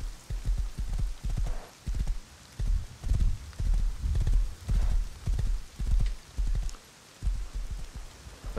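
Horse hooves clip-clop in the PC survival game Rust, a loud, steady run of rhythmic hoofbeats in repeated bursts with brief pauses, with no speech over it.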